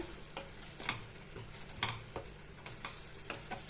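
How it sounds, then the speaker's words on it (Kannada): Grated coconut and jaggery frying and being stirred in a pan for jackfruit holige filling, a soft steady sizzle with irregular light scraping and tapping strokes, close and fairly quiet, no voices. "ಆ ಕಾಯಿನ ಆ ಬೆಲ್ಲದ ಜೊತೆ ಒಂದೆರಡು ನಿಮಿಷ ಚೆನ್ನಾಗಿ ಫ್ರೈ ಮಾಡ್ಕೊಳ್ಳಿ"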